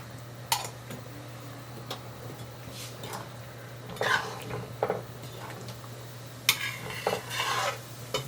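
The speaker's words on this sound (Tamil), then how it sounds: "நான் இதில் வந்து கட்டி பெருங்காயம் கரைச்சி வச்சுருக்கேன், அது வந்து ஒரு ஸ்பூன் விட்றேன்." A spoonful of dissolved lump asafoetida goes into a simmering brinjal kulambu, giving scattered light spoon clinks and stirring scrapes against the pot over a steady low hum, with a few brief sizzling bursts.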